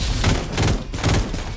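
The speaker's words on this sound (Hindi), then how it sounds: "गोली चला रहा।" Bursts of rapid gunfire in the battle-royale shooter Farlight 84, two or three dense volleys close and loud, with steady game ambience filling the gaps and no talking.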